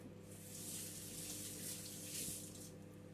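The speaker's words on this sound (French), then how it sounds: "Rincer le poisson." A kitchen tap runs steadily as salmon is rinsed under it, producing a close, continuous rushing of water with no break and no talk.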